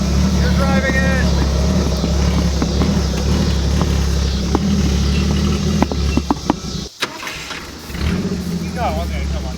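A 1960 Studebaker Lark with a seized motor is being driven, its engine running as a loud steady low rumble throughout, with a brief drop near the end before it resumes.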